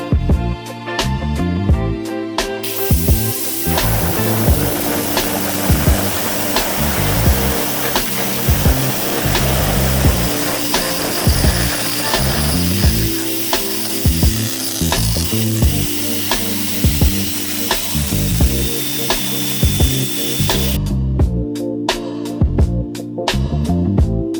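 A HANTENCNC 2000W pulsed laser cleaning machine stripping an oxide layer from metal makes a loud, steady crackling hiss like sizzling, framed by rapid rhythmic ticking as the beam starts and stops.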